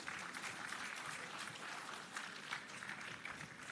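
Audience applause at a government handover ceremony of 93 buses to the Jamaica Urban Transit Company, a steady wash of many hands clapping throughout, even and sustained at moderate distance.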